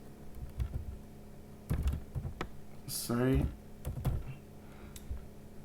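Clicks of typing on a computer keyboard come in short bursts, moderately close, with some other brief noises between the keystrokes.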